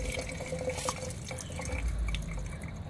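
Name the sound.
water being poured into a coolant expansion reservoir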